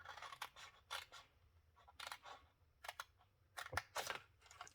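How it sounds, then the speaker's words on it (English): Scissors snipping the flaps off a scored cardstock box for a 3x3 card set, a run of short, close crisp cuts in uneven bursts with brief pauses, no talking. "And we cut this smaller flap off, cut the other flap off."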